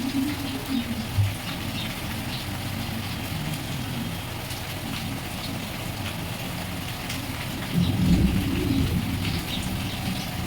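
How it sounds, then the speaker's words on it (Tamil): Rain falls steadily outside a kitchen window while mutton curry cooks, a constant soft wash with a few louder swells and no talk. "ஜன்னல் வெளி பாருங்கள் மழையை."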